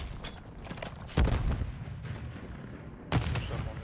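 Grenade blasts in a tactical shooter game match, two sharp booming bursts about two seconds apart over a steady background of game noise.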